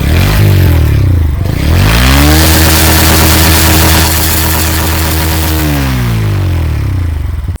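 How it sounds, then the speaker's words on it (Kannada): A Bajaj NS 125 cc motorcycle engine revs loudly up close, climbing from idle to a sustained high rev, holding there, then dropping back and cutting off. "ಒನ್ ಟ್ವೆಂಟಿ ಫೈವ್ ಸಿ ಸಿದು ಎನ್ ಎಸ್ದು ಗಾಡಿ ಸೌಂಡ್ ಕೇಳಿ ಯಾವ ಥರ ಇದೆ ಅಂತ ಹೇಳಿ"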